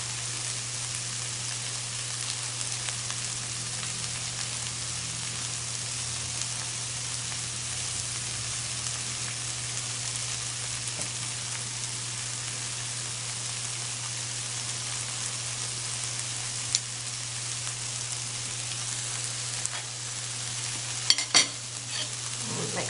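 Burrito filling sizzles in a pan with a steady, even hiss over a low constant hum, broken only by a few light clinks of stirring near the end; no one speaks.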